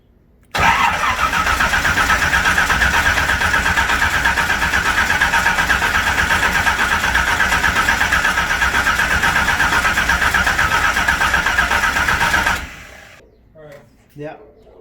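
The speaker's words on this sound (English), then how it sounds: "let's see if we can just get the car started" A twin-turbo LS-swapped Chevelle engine cranks and catches, then runs loud and steady for about twelve seconds before shutting off, leaving brief faint sounds afterward.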